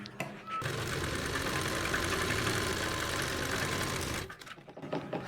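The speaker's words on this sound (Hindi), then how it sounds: "तो हमने इसी के ऊपर सीधी साइड से एक पैर की सिलाई लगा देनी है" A sewing machine runs a straight stitch along a strip for an Afghani salwar, its motor whirring steadily and close for about three and a half seconds before it stops and the room goes quiet.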